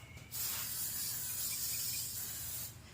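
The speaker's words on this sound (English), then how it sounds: "I'm going to spray with the containers with some Lysol" Lysol disinfectant sprayed onto plant containers in one long continuous aerosol hiss lasting over two seconds, close but faint, with no voices.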